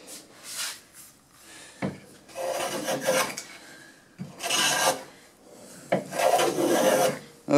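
Hand plane cutting even shavings from a wooden board, in three long rasping strokes separated by short pauses, close and fairly loud with no talking.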